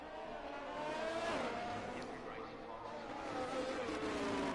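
A Team Ferrari Formula 1 car in an F1 racing video game at the Hungarian Grand Prix, its engine droning steadily at high revs with pitch sweeps as it races, under faint background commentary.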